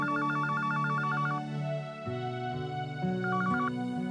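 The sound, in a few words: telephone ringing with an incoming call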